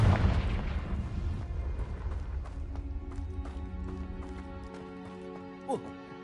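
Confringo blasting curse explosion in a Harry Potter game: a loud, heavy boom at the start that rolls off into a fading rumble, followed by scattered lighter impacts and ringing tones.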